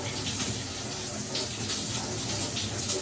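Shower water runs steadily and close by during a natural-hair wash day, a continuous broadband hiss with no pauses and no one talking.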